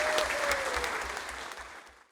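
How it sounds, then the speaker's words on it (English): An audience at a sports awards ceremony applauds the judges, with a dense wash of clapping that holds steady and then tapers off over about two seconds. "A round of applause for our judges."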